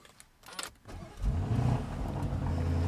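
A $250,000 dream car being started: a brief click and whir, then the engine catches and settles into a steady, moderately loud idle close by.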